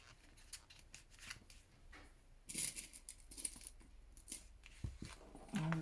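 Scissors snipping through fabric or felt during a stitching craft, a few quick close cuts with small metallic clicks, some louder near the end, with no talking.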